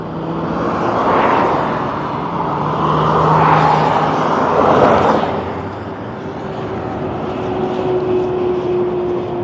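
Supercharged Mini Cooper driving past on a road, a broad roaring whoosh that swells and fades over several seconds with a faint whine, heard from a distance.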